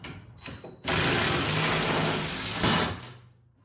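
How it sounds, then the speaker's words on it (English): A 14 mm socket tightens a screw and lock nut on motorcycle handlebars, giving one loud, close mechanical whirring burst of about two seconds, with a few small clicks before it and none after. "So what I'm gonna do, got my 14 millimeter socket here."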